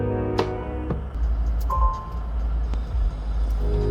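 Inside the cab of a truck fitted with a PACCAR EPU, the auto start system runs its checks, giving off a few sharp clicks and brief tonal beeps from the dash over a low engine-like rumble.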